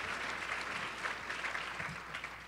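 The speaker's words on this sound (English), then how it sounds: "So once again, a round of applause." An audience gives a round of applause after an inspirational talk, with steady, dense clapping at moderate distance that continues throughout.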